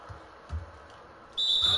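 Referee whistle in NBA 2K21 basketball, one short shrill blast near the end over a soft game-crowd murmur with faint sneaker thumps before it.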